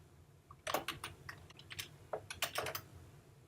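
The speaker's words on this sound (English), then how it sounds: "I'll type in my narrative here." Quiet typing on a computer keyboard produces irregular clusters of soft key clicks over a low steady hum, with no one speaking.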